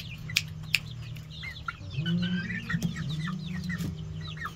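Native chickens clucking nearby, a low steady murmur of clucks with sharper chirps and a few clicks, fairly quiet.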